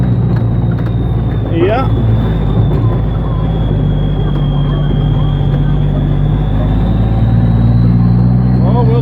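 A GMC General truck with a rebuilt 350 Cummins engine runs at a steady, loud, low idle rumble, with a faint whine above it and a voice briefly over it.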